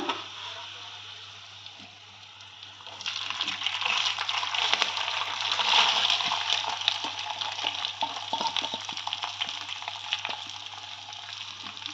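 A dal tadka tempering fries in a pan at home. It starts as a soft hiss, then swells into a loud, steady sizzle that holds throughout with faint stirring scrapes and no voice.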